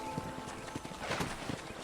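Hooves clip-clop steadily in Red Dead Redemption, a horse walking at an even pace with a few spaced thuds over a constant background hum.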